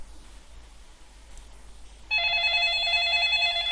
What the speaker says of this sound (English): as we heard the ringtone, let's go pick our phone